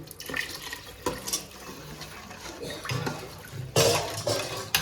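Water is poured into a pot of rasam in irregular splashes and trickles, close and moderately loud, with no talking.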